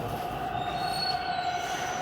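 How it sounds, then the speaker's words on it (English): A subway train rolls into Toronto's Main Street station. Its wheels give a sustained, piercing metallic squeal over a steady rumble, heard close and without pause. "Sounds like there's a train rolling in."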